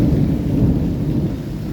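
Heavy thunderstorm rain in Rajkot pours steadily with a deep, continuous thunder rumble underneath, loud and close, with no voices.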